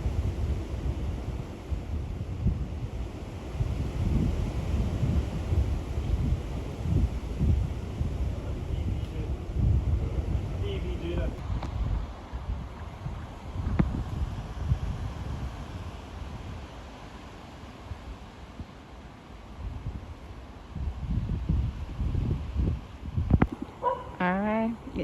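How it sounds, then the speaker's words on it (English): Strong gusting wind from Hurricane Melissa buffets the microphone in Manchester, Jamaica, a loud rumbling roar rising and falling in surges, with a few faint higher sounds near the end. "very windy all over the place. Very windy in Manchester."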